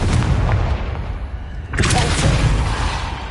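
A Confringo fire spell blasts in Hogwarts Legacy, a loud booming explosion with a roaring rush. Rumbling game noise continues throughout, and a second burst flares up partway through.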